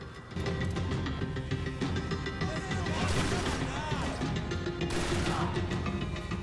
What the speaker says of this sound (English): Look at that blind fire